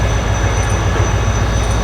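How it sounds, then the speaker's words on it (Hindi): A freight train eases slowly out of Kanpur railway station, producing a loud, continuous low rumble of rolling wagons with a steady mechanical drone and faint high squeals, heard close by without any talk. "जो बराबर में मालगाड़ी खड़ी हुई थी GO 49032 के साथ, उसने चलना शुरू कर दिया है आहिस्ता आहिस्ता"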